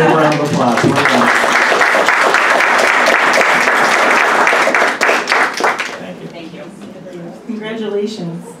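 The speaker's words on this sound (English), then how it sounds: "Give them a big round of applause." An audience at a school district board of education session gives a big, loud round of applause that fills the room for about five seconds, then fades into scattered claps and murmuring voices.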